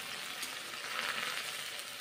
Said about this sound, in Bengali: এখন মুসুরির ডালগুলো আমি ভেজে নিচ্ছি